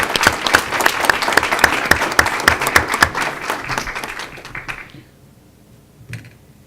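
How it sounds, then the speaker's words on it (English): Audience at a school board meeting gives a round of applause, dense clapping for about four seconds that thins out and fades to near silence, with a faint sound near the end. "Give her a round of applause."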